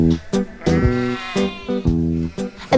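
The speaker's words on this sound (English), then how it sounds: "there are a lot of sheep here" Sheep on a sheep farm bleat repeatedly, several overlapping calls in quick succession, close and clear with short pauses between them.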